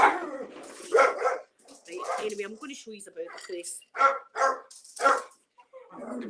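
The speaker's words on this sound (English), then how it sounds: "Well, the dog's going crazy." A small dog barks in sharp bursts indoors, close and loud, mixed in with someone talking throughout.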